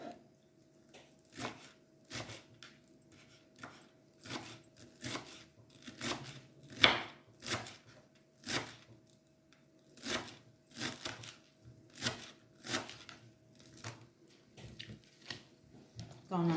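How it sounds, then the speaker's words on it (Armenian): A knife chops fresh herbs for tabbouleh in a home kitchen, a series of crisp, close chopping strokes in loose bursts, some quick and some spaced apart, over a quiet background. "հիմա կտրատում եմ թարմ համով"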